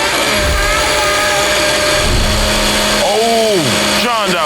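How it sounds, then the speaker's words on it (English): Loud blender whirring steadily up close, its motor tone rising and falling as the speed shifts, with a voice partly buried underneath the noise. "drowned out by the blender"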